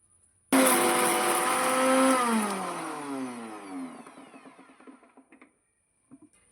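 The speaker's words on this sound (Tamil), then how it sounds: "இப்போ இதெல்லாம் சேர்த்து நல்லா நம்ம அரைச்சி எடுத்துகிட்டு ரொம்ப நைஸாக ஒட்டாமல் கொஞ்சம் குறவரப்பாக அரைச்சி எடுத்துக்க போகிறோம்" A mixer grinder grinding karpuravalli leaves whirs loudly at full speed, then winds down as the motor is switched off, followed by a few faint clicks.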